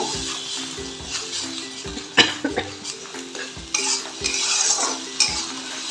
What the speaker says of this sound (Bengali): তার সাথে দিচ্ছি কালো জিরে ধনে পাতা কাঁচা লঙ্কা বাটা। ভালো করে মিশিয়ে নেব।